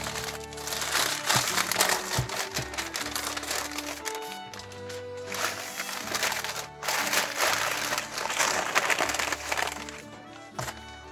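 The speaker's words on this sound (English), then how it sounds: "Sorry for all of the crumpling." Paper packing sheets are crumpled and crinkled close up in repeated loud bursts while a parcel of coins from the Royal Canadian Mint is unpacked, with scattered crackles and rustles throughout.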